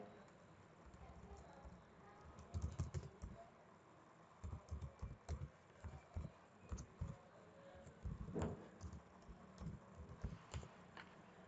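A password is tapped out on a computer keyboard in quick, soft clusters of keystrokes, faint and close, with brief pauses between bursts and a quiet voice speaking in the background.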